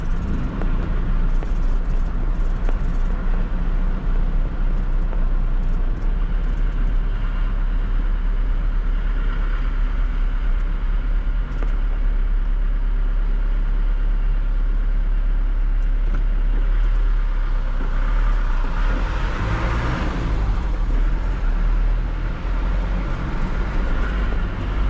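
A 1997 Ford F1000 pickup with a straight exhaust and 33-inch tires rumbles loud and continuous from inside the cab while driving, the engine note shifting slightly as gears change.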